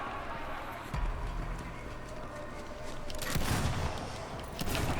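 Gunfire bursts from the video game Borderlands 3, rapid shots landing around the one-second mark and again from about three and a half seconds, loud and close over a steady game background.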